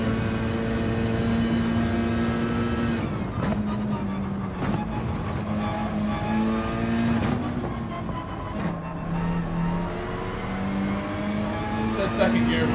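A race car engine in Gran Turismo 7 revs and climbs through the gears during a Manufacturers Cup practice session, with steady whining tones that rise and drop at each shift, alongside someone talking.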